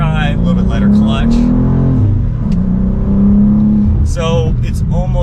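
A 2023 BMW M2 with a six-speed manual drives along and its engine hums and revs in the cabin, rising and falling through gear changes while someone talks over it.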